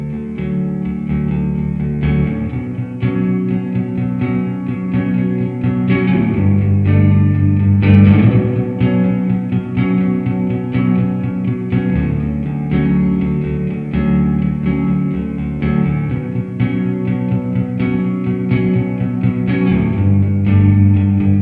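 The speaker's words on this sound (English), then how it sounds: "Now on the reverb, let's jump over to the spring setting" An electric guitar plays chords and melodic lines through a Walrus Audio Fundamental Reverb pedal on its spring setting, with a sustained wash of reverb and no pauses.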